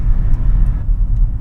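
A 2000 Toyota Tacoma pickup drones loudly from inside the cab while driving, a heavy low-end rumble with steady road roar and no talking.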